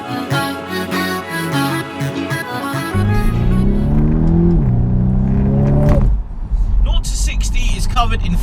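A 300 bhp VW T-Roc R crossover accelerating hard, its engine note rising through the revs with a gear change, then a whooshing surge, loud and close, with someone talking over the start.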